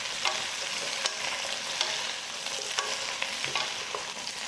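Galbi chicken pieces being stirred and tossed with chopped green onions in a hot pan, with a steady bright sizzle of frying oil and scattered scraping clicks of the spatula throughout, no talk.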